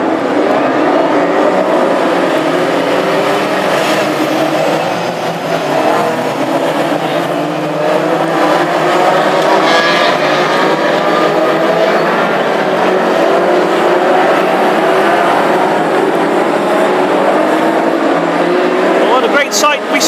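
Twenty-three classic hot rod race cars circulating on the Hednesford oval at the start of a heat, a loud continuous engine roar with shifting pitch as cars pass, under a commentator talking.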